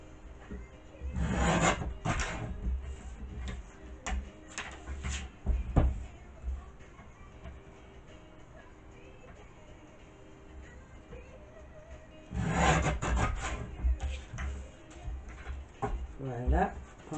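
Paper is cut on a cutting board to 8.5 cm, with two bursts of scraping, sliding strokes separated by a quieter stretch.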